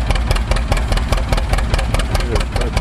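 An antique farm engine runs with its clutch engaged: a loud, steady rhythmic chugging with rapid regular pulses, close up with no talk.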